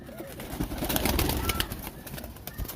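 A teddy pigeon cooing among a flock in an inner Lahore pigeon-keeping setup, soft low coos under busy clattering and wing flutter, with someone talking nearby.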